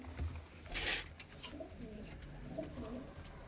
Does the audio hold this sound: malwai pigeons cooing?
yes